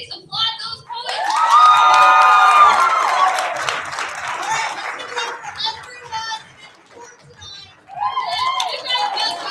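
An audience at a Louder Than a Bomb youth poetry slam bout breaks into loud applause and whoops of cheering that swell for a few seconds, then fade into scattered claps and crowd chatter before rising again.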